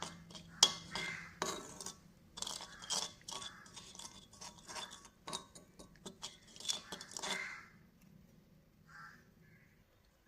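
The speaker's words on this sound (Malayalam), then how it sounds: "അപ്പോൾ ഇനി ഇത് നല്ലപോലെ ഒന്ന് മിക്സ് ചെയ്ത് കൊടുക്കാം" A homemade natural hair dye mixture is stirred in a bowl. A spoon scrapes and clinks in irregular, quiet strokes that trail off into near silence.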